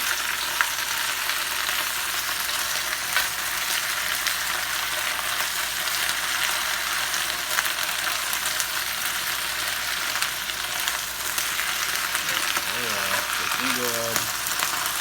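Bok choy stir-frying in hot oil in a hot pan, giving a dense, even, bright sizzle that holds steady throughout, near and loud, with faint tonal squeaks of movement toward the end.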